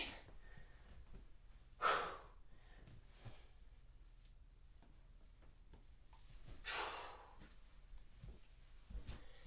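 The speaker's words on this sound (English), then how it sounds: "It's also important to breathe." Two heavy, forceful breaths several seconds apart come from someone training on a hangboard, close and quiet, with faint creaks and rustles between them.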